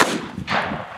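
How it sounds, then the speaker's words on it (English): A shotgun blasts into a hay bale at close range: a loud, sharp report followed by a second burst and a brief rumbling tail, all within about a second and with no talking. "we're gonna start with the shotgun round"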